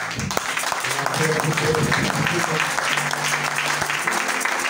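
A church congregation applauds, a steady wash of many hands clapping at moderate loudness, with voices and cheers blended in throughout.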